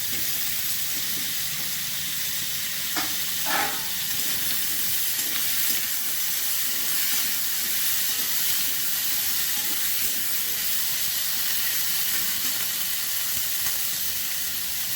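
Eggplant pieces fry in a pan with oil, giving a steady, dense sizzle and hiss throughout, joined by a few brief stirring scrapes near the start, with no voices.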